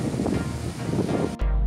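Ocean waves washing onto a beach in Brunei, a steady rushing surf mixed with wind buffeting the microphone, then a sudden deeper gust near the end.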